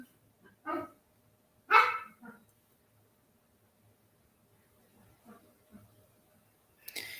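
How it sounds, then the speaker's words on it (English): A dog gives a few short, odd barks and yips, separated by quiet stretches, with some soft background sounds between them. "This dog, that weird noise."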